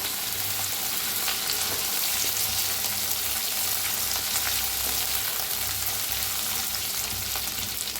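Vegetables and chilies frying in a pan for a Marathi vegetable dish, giving a steady, close sizzle with occasional stirring scrapes that runs unbroken and fairly loud throughout, with no talking.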